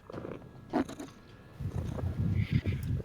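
A person makes soft cat-like noises, brief mewing and purring sounds close by, imitating a cat in short bursts.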